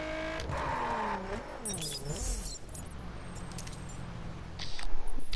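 A car in The Crew racing game roars at high speed through handbrake turns, with engine pitch sweeping up and down and tyres squealing, loud and continuous throughout.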